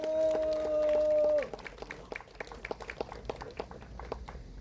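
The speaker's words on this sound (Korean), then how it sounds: "큰 박수 부탁드립니다." An outdoor audience at an 80th Liberation Day rally for sovereignty and peace in Daejeon gives scattered, moderately loud clapping. It begins after a brief sustained tone ends and continues as uneven, crackling claps.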